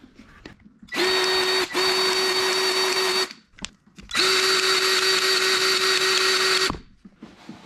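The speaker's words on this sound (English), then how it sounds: "I highly recommend this Milwaukee M18 cordless grease gun" A Milwaukee M18 cordless grease gun runs in two sustained whining bursts, about two seconds and then about two and a half seconds, while greasing the universal joints of a drive shaft on a John Deere 3046R. The sound is close and loud.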